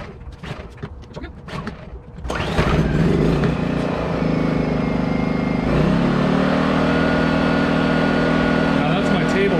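A Bilt Hard inverter generator restarts after a few rattling pull sounds, then settles into a loud steady engine hum that climbs slightly in pitch as it runs on, with a table rattling beneath it.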